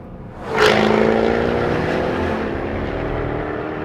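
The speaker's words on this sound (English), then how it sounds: "If I press this button here now, and we go to noisy exhaust, get a load of this." A Jaguar F-type coupé with its exhaust switched to the loud mode revs up sharply, then settles into a loud, deep, rumbling drone that slowly eases off.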